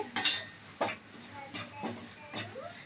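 Jowar flour being stirred and roasted in a pan, with a spoon scraping across the metal in about five repeated strokes, close and moderately loud, with a light clink at the start.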